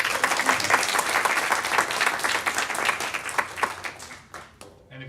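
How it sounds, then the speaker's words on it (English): Audience applause at an EdTech meetup, a lively burst of many hands clapping that thins toward the end as a few voices rise under it. "Round of applause"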